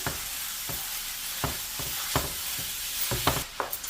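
Ground beef and sausage, a pound of each, sizzle in a pan on a stovetop. A steady hiss runs throughout, broken by periodic scraping stirs that grow busier toward the end.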